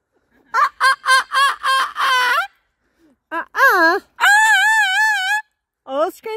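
A cockatoo imitating a chicken with loud, close bok-bok clucks in quick bursts, then drawn-out wavering wails, with brief pauses between phrases.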